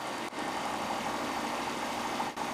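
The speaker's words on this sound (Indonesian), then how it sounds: "Mesin dengan cepat berakselerasi hingga lebih dari 800 rpm" A homemade Stirling engine mounted on a bicycle, released from its clutch and accelerating past 800 rpm, gives a steady close mechanical drone with a brief dip near the start and another near the end.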